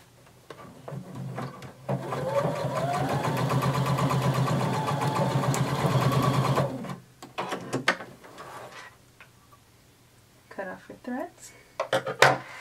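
A sewing machine stitches across fabric for Simplicity pattern 1283, running as a steady mechanical whir for several seconds, then stopping and giving way to quieter clicks and handling sounds; a voice speaks briefly at the end.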